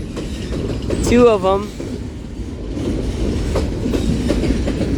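A Union Pacific mixed freight train with hopper and tank cars rolls past close by at Central Avenue, a steady loud rumble of wheels with clickety-clack beats; a brief harmonic whistle-like tone rises early on and a person speaks briefly.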